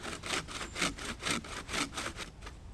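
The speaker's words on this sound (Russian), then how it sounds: "Надо же, она пилит." A handmade bow saw cuts through wood outdoors in a wet forest, giving about six rhythmic rasping strokes back and forth, close and fairly quiet.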